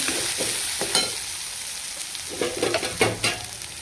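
Masala spices roast in hot oil for spinach and fenugreek dumplings, giving a close, even sizzle broken by several scraping stirs that grow busier toward the end.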